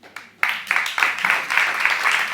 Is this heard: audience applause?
yes